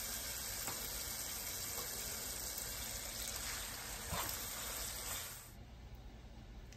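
A steady, fairly quiet sizzle of taco sauce thickening in a pan hisses continuously for several seconds, then drops off toward the end.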